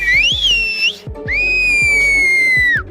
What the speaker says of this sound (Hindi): तुर्की के इलाके कोस्कूव में सिर्फ सीटियां बजाकर बात की जाती है